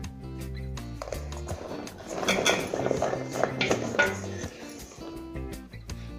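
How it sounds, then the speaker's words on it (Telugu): Mango pieces tumble into a pickle spice mix, a burst of clattering and rattling against a metal vessel that swells in the middle and then eases back to quieter knocks, with no speech. "ఇప్పుడు మామిడికాయ ముక్కలు కూడా వేసేయాలి."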